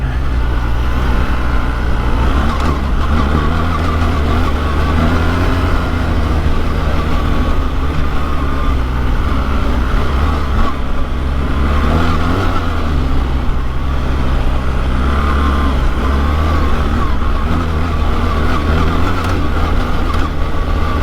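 BMW R 1300 GS Trophy motorcycle ridden hard off-road over whoops, a loud steady engine drone with wind and chassis rumble throughout, close and constant.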